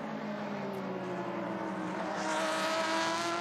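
A Porsche race car at speed during a 2017 WEC endurance race, a steady engine drone whose pitch rises and swells slightly louder toward the end, heard alone without voices.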